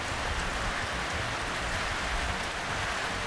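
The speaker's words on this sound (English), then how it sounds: "we are at the Treetop Walkway and it is pouring down" Heavy rain pours down steadily in the forest at the West Coast Treetop Walk in New Zealand, a dense, even hiss of drops on leaves and surfaces with no voices.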